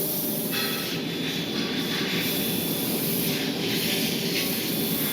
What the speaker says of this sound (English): I'm going to send some air through the cutting head just to blow any debris away.